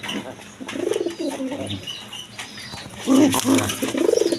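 Healthy pigeons of a fine breed coo in low, rolling bursts, several calls overlapping nearby against a busy, noisy background.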